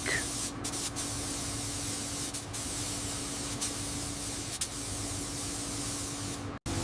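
A spray gun lays silver mink paint onto a restored Rolls-Royce in a steady, loud, close hiss with a faint hum beneath, broken by brief trigger pauses and a short cutoff near the end.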